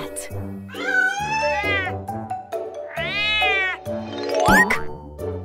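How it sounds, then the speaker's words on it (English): A cat meows repeatedly, several drawn-out, wavering meows in a row, close and clear, with a voice speaking briefly between them. "Cat."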